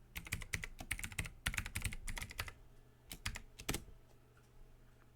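Someone types a password on a computer keyboard to log in to Windows 10. Quick bursts of close, crisp keystrokes come in clusters with short pauses, and no one talks.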